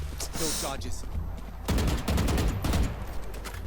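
Valorant gunshots, a few sharp reports and a quick burst close up, mixed with game effects and a voice talking over them.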